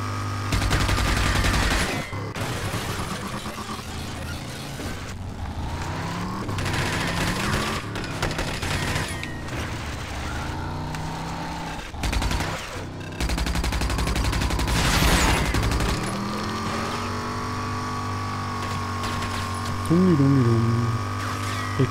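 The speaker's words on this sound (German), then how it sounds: "Wir schießen." Rapid bursts of gunfire from shooting in the video game RAGE, loud and close, with dense repeated volleys broken by short pauses, alongside engine hum and game effects.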